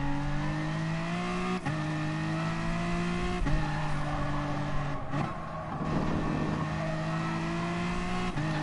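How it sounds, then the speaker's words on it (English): In Gran Turismo Sport, a race car's engine drones loud and close as it accelerates, with several quick upshifts that briefly drop the pitch before it climbs again, plus a short tire scrub midway. "I can squeeze the throttle and help alleviate that understeer"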